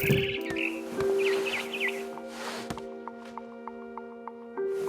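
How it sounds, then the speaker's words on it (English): Barn swallow chirping in the video game What Remains of Edith Finch: a run of bright, quick chirps and tweets early on over a steady tonal game hum, followed by faint evenly spaced ticks. "Then I heard chirping outside my window. It was a barn swallow going back to her nest."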